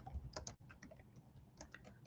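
Quiet, rapid keyboard typing during a livestream about making SVG graphics, a run of soft clicks close by with no talking.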